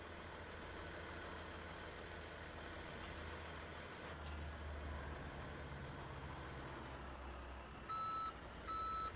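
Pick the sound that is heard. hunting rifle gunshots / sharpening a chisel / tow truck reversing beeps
tow truck reversing beeps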